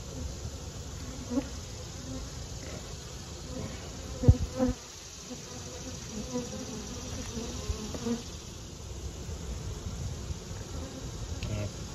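Honey bees buzz during an inspection of a checkerboarded hive, a faint, continuous hum from the frames with occasional louder bees passing close and a few soft clicks and knocks.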